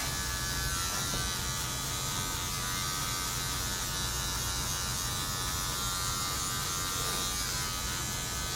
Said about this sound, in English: I'm not pulling my clipper back